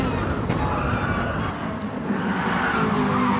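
A Ferrari 458 race car in GT Sport brakes hard into the Lakes descent and slides around, giving a loud, continuous roar of engine and tyre scrub that holds steady throughout.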